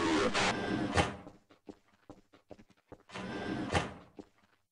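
A door opens in a video game with a loud mechanical sliding whoosh that ends in a thud. Scattered clicks follow, then a second identical opening sound plays nearby.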